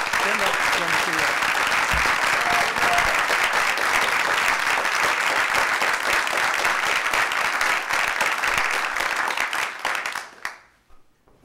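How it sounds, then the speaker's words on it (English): Audience at a Veterans Day ceremony at a hospital gives a loud, sustained round of applause that fills the room for about ten seconds, then fades quickly into silence at the end. "They deserve a big round of applause"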